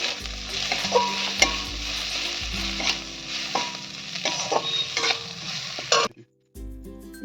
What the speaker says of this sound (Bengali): দিয়ে ভালো করে আমি ভাজা করে নেব